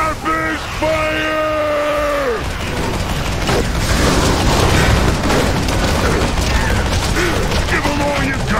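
Rapid Fire shots in World of Warcraft during a Grimrail Depot dungeon run, heard as a dense burst of mechanical clattering and booming impacts, with tonal spell chimes at the start and end.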